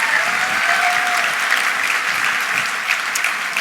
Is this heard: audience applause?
yes